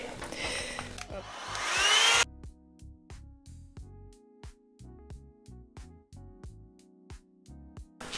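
A hot air brush blows while drying and styling hair, a rushing whoosh that rises for about two seconds and then cuts off abruptly. Quieter rhythmic tonal thumps follow for the rest of the time.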